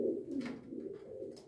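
Pigeons coo softly inside a loft, a low continuous murmur of throaty calls from nearby birds.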